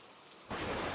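Steady broadband rain hiss that jumps abruptly louder halfway through into a heavy downpour, with no distinct thunder crack standing out, no voices.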